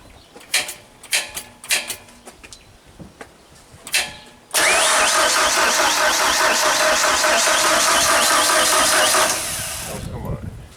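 The engine of a Genie boom lift cranks without catching. A few sharp clicks come first, then a loud, continuous starter grind runs for about five seconds and fades out, with voices nearby.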